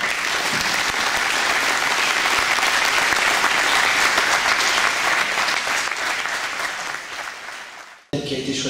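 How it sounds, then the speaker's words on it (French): A standing crowd applauds in memory of two bullfighting aficionados, dense continuous clapping filling the room for about eight seconds before it cuts off abruptly. "je voudrais qu'on se lève, qu'on fasse une minute d'applaudissement"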